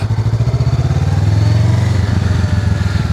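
A motorcycle pulls away from a stop on a new rider's first ride, its engine chugging in a close, loud, rhythmic low pulse that rises slightly as throttle is applied, with no voices.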